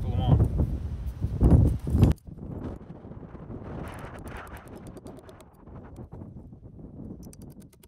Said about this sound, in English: I realise that wind is horrible